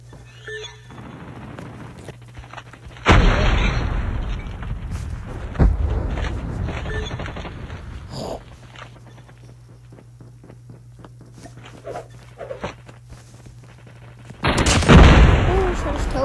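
Gunfire from the Annihilator in a ranked online multiplayer video game match, with loud bursts near 3 s and 15 s against game ambience and some talk.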